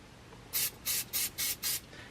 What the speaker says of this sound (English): You're just going to give it a light spray, like a light coating